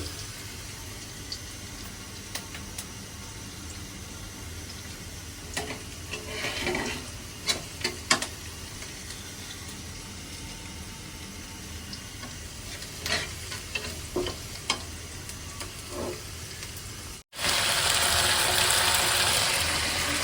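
Onion fries slowly in a pan on a home stove, giving a soft continuous sizzle with scattered stirring clicks and scrapes, until a louder rush of noise takes over near the end.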